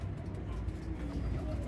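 Firozpuri pigeons on a rooftop give low, soft cooing that runs steadily throughout, close by, with faint background rumble.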